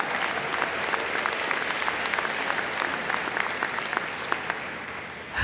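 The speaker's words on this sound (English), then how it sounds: "Let's give them a round of applause." A graduation audience at the Buffalo State 2016 commencement applauds with dense, continuous clapping that fills the hall at moderate loudness for several seconds, with no one speaking over it.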